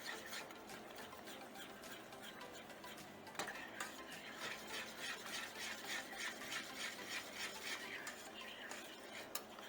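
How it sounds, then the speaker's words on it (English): A utensil scrapes and taps rhythmically against a pan while gravy thickens, giving quiet repeated stirring and metallic clinks with no voices. "And just keep stirring until you get a thick"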